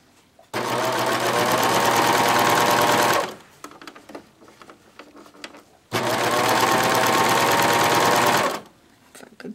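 A serger sewing machine runs in two loud, steady bursts of about three seconds each, stitching a one-inch seam, with quiet handling and fabric rustle in the pause between bursts.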